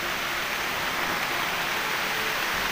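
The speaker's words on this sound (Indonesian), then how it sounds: "Nah, ini hujannya lebat ini." Heavy rain pours down in a forest, a dense, steady hiss of water on leaves and ground with no breaks throughout.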